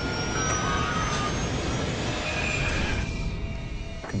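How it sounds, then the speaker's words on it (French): Airliner jet engine running at high power gives a continuous loud roar with a thin whining tone over it, holding strong for about four seconds with no voices. "Le moteur droit augmentait vraiment de puissance."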